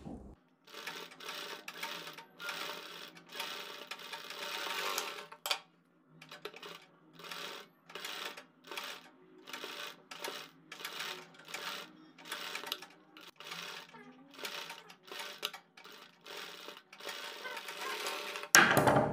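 A sewing machine stitches fabric strips in short, rhythmic bursts of rapid clatter separated by brief pauses, close and moderately loud, with a sharp knock at the end.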